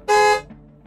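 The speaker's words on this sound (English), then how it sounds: "You hear a car honk" A single short, loud blast from a car horn, close by and clean, followed by near silence with faint traces of lower sound.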